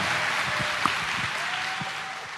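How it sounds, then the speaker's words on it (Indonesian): An audience at a campus talk event applauds presidential candidate Anies Baswedan: steady, full-room clapping carries on evenly for over two seconds with no speech over it. "Kita kasih tepuk tangan untuk Anies Baswedan."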